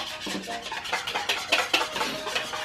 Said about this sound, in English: So it says after 5 minutes of hard whisking.